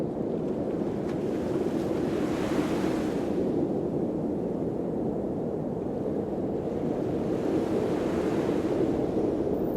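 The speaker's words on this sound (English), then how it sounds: "high winds, sea smoke on the frigid ocean waters" Strong wind roars over a frigid ocean with crashing waves and rolling surf, a steady, loud, dense wash of noise with wind buffeting the microphone throughout, no voices.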